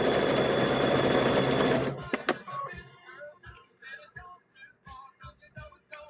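A sewing machine runs steadily while stitching a quilt block, a loud continuous whir for about two seconds before it stops, followed by soft handling clicks and rustling of fabric.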